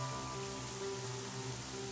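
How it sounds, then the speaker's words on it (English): Steady heavy downpour of rain in the video game Pandora, a dense even wash of falling water with no distinct drops standing out, continuous and unbroken throughout. "as the rain turned into a downpour"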